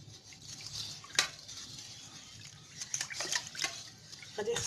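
A spoon stirs liquid ice lolly mixture, soft watery swishes and light clinks against the container, quiet and close, with no talking.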